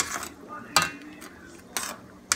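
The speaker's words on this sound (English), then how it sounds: "And I stir it a little bit" A spoon scrapes and clinks against a pot while stirring sorrel drink with ginger, a few distinct metallic knocks spaced across a quiet background.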